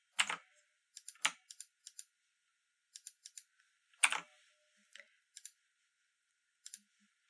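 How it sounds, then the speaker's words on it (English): Key clicks from a loud gaming keyboard arrive in short, irregular bursts: single taps and quick clusters separated by brief silences, close to the microphone, with no voices. "My gaming keyboard and I, so loud."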